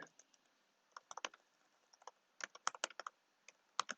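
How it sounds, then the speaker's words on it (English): Keys on a computer keyboard click in irregular bursts, close and fairly quiet, with short pauses between flurries of typing. "I need to start typing."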